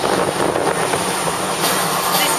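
A Universal Studios Hollywood studio tour tram rolls into a film set, giving a loud, steady rumble of wheels and motor with faint rattling and no talk.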